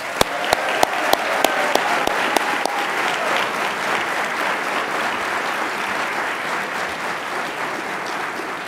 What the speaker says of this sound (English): Please give our 35-year honorees a round of applause.